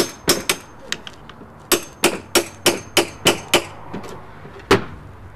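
Metal wedges being tapped with a hammer into a brick chimney joint to hold step lead flashing: a series of about a dozen sharp, close knocks, several in a steady rhythm, with short pauses and a final isolated strike.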